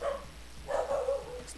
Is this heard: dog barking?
yes